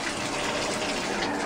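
Bath water pouring steadily from a tap into a tub for a baby, a continuous close rush of running water filling the whole short stretch with no talking.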